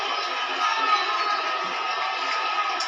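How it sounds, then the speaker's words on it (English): A basketball arena crowd at a Minnesota Timberwolves versus Denver Nuggets game roars steadily, a broad continuous wash of cheering and shouting that stays loud and even throughout. "Minnesota getting this crowd in the game"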